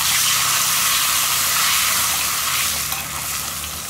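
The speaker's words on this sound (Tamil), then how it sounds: "பச்சையா கருவேப்பிலை இலையை இந்த மாதிரி போட்டு தாளிக்கும் போது நல்ல வாசமா சூப்பரா இருக்கும்" Fresh curry leaves sizzle and crackle in hot oil, tempering a prawn gravy on a stove that has just been switched off. The frying is loud and close, a continuous hiss that eases slightly toward the end.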